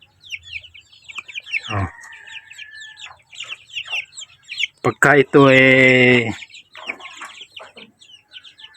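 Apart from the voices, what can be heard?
chickens, a hen with chicks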